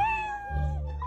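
A cat gives one short, clear, close meow with a slightly drawn-out, falling tone.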